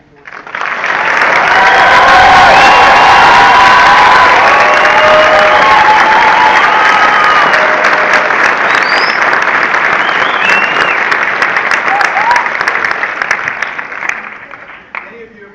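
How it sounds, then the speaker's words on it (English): Loud, sustained applause and some cheering from a large crowd at an army basic training graduation for a battalion at Fort Leonard Wood. It swells quickly, holds for most of the stretch and fades toward the end. "How about another round of applause for our graduating and"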